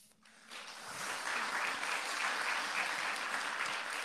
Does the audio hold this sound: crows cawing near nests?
no